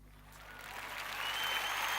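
Applause from a crowd swells steadily over two seconds, a dense wash of clapping growing louder, with no voices.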